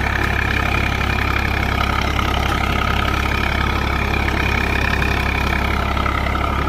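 A Swaraj 855 tractor runs in fourth low gear at about 1300–1400 rpm while pulling a super seeder through wet soil. The loud engine drone holds steady and close throughout, with no speech.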